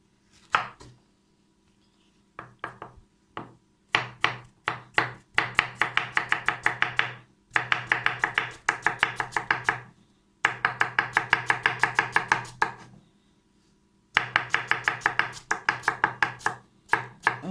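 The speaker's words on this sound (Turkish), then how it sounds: "Sonra doğrayacağım bu şekilde" Rapid knife chopping of vegetables on a cutting board, bursts of quick, steady strokes with brief pauses between runs, close and crisp.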